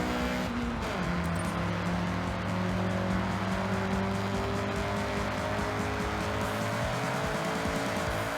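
A Honda CRX in Forza Horizon revs hard and keeps accelerating. Its engine tone holds steady and climbs, with faint tire squeal underneath, loud and continuous throughout with no talking.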